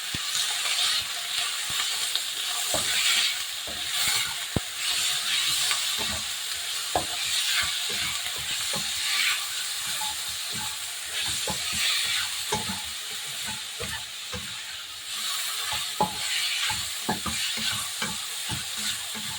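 Pork belly frying in a pan, a steady crackling sizzle with frequent sharp pops and spatters throughout, close and continuous.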